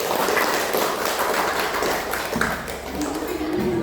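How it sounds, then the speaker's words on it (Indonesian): A classroom of students clapping for the first group after their presentation, a broad continuous patter of many hands at moderate loudness, with voices mixed in beneath. "tepuk tangan untuk kelompok 1"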